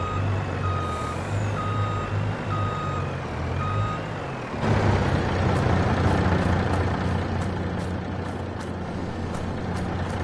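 A truck in Farming Simulator 22 reverses with steady, evenly spaced beeps over a low idling engine; the engine rumble swells partway through as the beeping continues, with faint clanks and hisses in the background.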